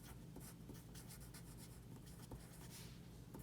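Pen or marker writing on a number line, a steady close scratching and tapping of strokes with no voices.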